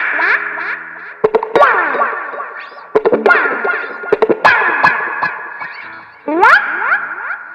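Electric guitar run through a Boss DD2 delay pedal set to a long delay, phrases repeating in trailing echoes, with sharp picked attacks and bends standing out loud and close over a continuous wash of repeats.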